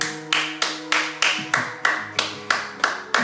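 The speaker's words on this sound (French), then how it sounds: "Merci. Acclamons Jésus" Rhythmic clapping from a church congregation during an evening service, about ten evenly spaced, crisp claps at a steady tempo over a faint musical tone.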